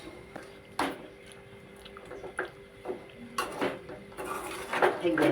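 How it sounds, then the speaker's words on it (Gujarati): Poha is stirred into onions in a pan, with repeated scraping and clinking of a metal spoon against the pan at an uneven rhythm, close and fairly quiet. "પૌવા આપણે આમાં મિક્સ કરી દેવાના છે, જોઈ શકો છો મિક્સ થઈ જાય છે, હલાવીએ"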